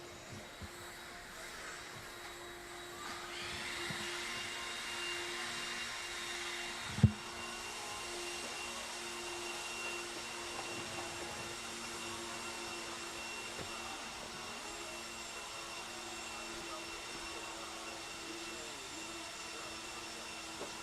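Air blowers hiss at an RC car dirt raceway as a faint, steady whooshing hum in the distance, with one sharp knock partway through.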